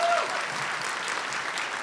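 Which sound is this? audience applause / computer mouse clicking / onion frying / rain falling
audience applause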